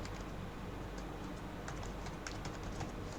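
Soft, quick key clicks from typing on a computer keyboard patter in an irregular stream, faint and close against a steady hiss.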